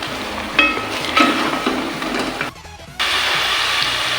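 Turmeric and crushed coriander masala frying and being stirred in a karahi for tomato chicken karahi, with a steady close sizzle and scraping strokes, a brief dip in the sizzle near the end, then the frying resumes.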